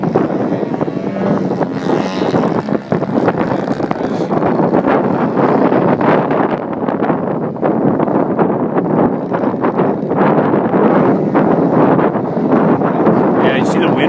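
Gusty outdoor wind roaring against a microphone at an RC flying field, loud and continuous throughout, with a small model aircraft engine buzzing under it and people talking now and then.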